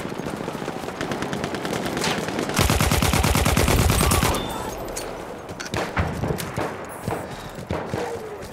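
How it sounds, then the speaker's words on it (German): Rapid automatic gunfire rattles in Battlefield 1, a loud, dense burst in the middle flanked by scattered single shots and clatter, with no talk over it. "Hey, musst du nicht auf mich schießen hier."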